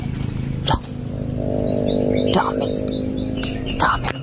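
Birds chirp in quick, repeated high tweets over a low hum of motorcycle engines running nearby in the mountains, with a few sharp knocks breaking through.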